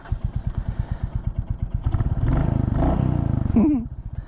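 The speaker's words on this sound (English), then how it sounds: "let's get on the road here and see what the Royal Enfield Classic 350 has to offer." A 2023 Royal Enfield Classic 350 with its 349cc single-cylinder engine thumps in a steady low pulse at idle, then revs up into a loud sustained roar as the bike pulls away, with a brief rising whine of acceleration near the end.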